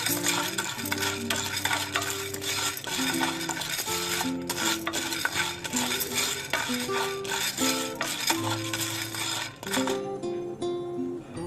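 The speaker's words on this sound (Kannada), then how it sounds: "ಕಡ್ಲೆಬೇಳೆ ಸೇರ್ಕೊಳ್ತಾ ಇದ್ದೀನಿ ಸೊ ಗೋಲ್ಡನ್ ಬ್ರೌನ್ ಬ್ರೌನ್ ಆಗೋವರೆಗೂ ಚೆನ್ನಾಗಿ ಫ್ರೈ ಮಾಡ್ಕೊಳ್ಳೋಣ" Chana dal dry roasting in a hot pan for coconut chutney powder, stirred steadily with a spatula; busy scraping and rattling of the lentils runs close and continuous over a faint background tone.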